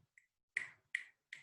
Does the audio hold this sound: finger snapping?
yes